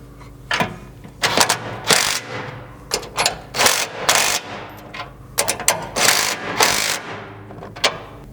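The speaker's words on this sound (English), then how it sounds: "you can tighten the bumper to these inner mounting brackets using an 11/16 socket" Ratcheting socket wrench with an 11/16 socket tightening bolts on a Polaris Ranger rear bumper's inner mounting brackets: bursts of close, sharp clicking ratchet strokes repeating in uneven runs, no talking.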